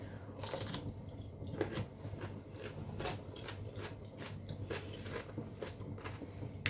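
Firm home-pickled cucumbers crunched while eating: faint, irregular crisp bites and chewing crackles over a low background hum, close to the mic.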